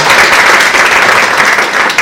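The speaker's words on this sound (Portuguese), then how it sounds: "uma salva de palmas" Loud, close applause from a lecture audience at a legal talk, a dense and continuous wash of clapping hands that lasts the whole short stretch.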